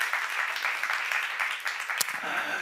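A church congregation at a seminar claps together in a steady, dense round of applause that fills the room from start to finish.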